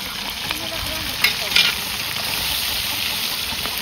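Tilvan roasts on bricks over an outdoor fire while mutton is cooked for a village temple fair, giving a steady, loud sizzling hiss with faint voices in the background.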